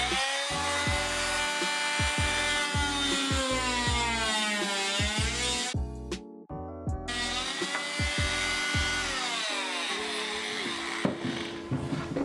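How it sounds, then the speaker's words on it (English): An oscillating multi-tool cuts a socket pocket into a wall partition during rewiring, a loud buzzing whine whose pitch rises and falls as the blade bites, with a brief pause midway before cutting resumes. "I'm going to use a multi-tool, which is this little gadget here"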